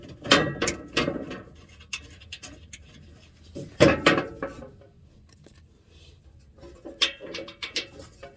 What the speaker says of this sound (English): Take a 14mm socket and just snug it up.